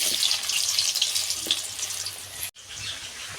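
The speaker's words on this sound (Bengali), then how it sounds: "এবার আলুগুলো কেটে রেখেছিলাম, এখন এগুলো ভেজে নেব" Cut potato pieces fry in white oil in a kadai, giving a steady, close hiss of bubbling oil that briefly cuts out and then resumes.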